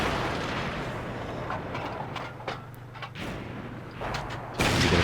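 Tank cannon fire in World of Tanks, a heavy booming shot rising over a constant rumbling battle ambience with engine drone, the sharp report arriving near the end.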